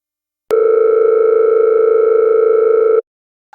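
A telephone calling tone in an Indonesian animated film: one long, steady electronic beep that starts abruptly, holds for about two and a half seconds and cuts off, with a short blip just after.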